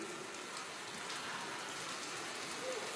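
Steady rainfall, a dense even hiss of drops on surfaces that continues unchanged and fairly quiet throughout.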